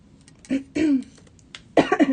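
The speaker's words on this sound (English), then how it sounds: "forgive me for my occasional cough" A couple of close coughs from a speaker with a cold, followed by a rough throat clearing, short and raspy bursts separated by brief quiet.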